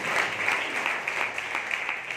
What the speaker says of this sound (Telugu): చప్పట్లు కొట్టాలి, ఒకరిద్దరు పెడతారు.